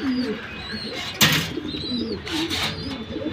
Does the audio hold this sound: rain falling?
no